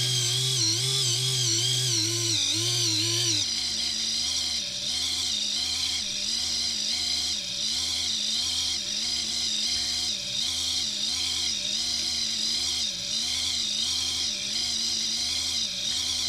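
InMoov humanoid robot motor whining steadily and close, with a rhythmic pulsing wobble and faint catching of screws, a higher tone shifting down after a few seconds, no talking.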